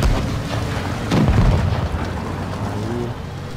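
A tank cannon fires in World of Tanks: one heavy, booming shot bursts out over a continuous low rumble of battle noise, then the rumble carries on steadily.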